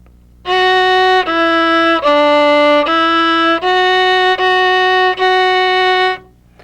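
A solo violin plays a short, slow phrase of about seven sustained bowed notes, clear and close, with brief breaks between them.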